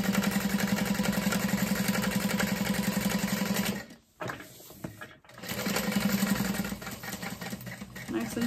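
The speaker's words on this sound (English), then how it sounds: "And then I'm going to top stitch that." A sewing machine top stitches a messenger bag at a long stitch length, its motor whirring in a steady rhythmic run, stopping for about a second, then starting up again.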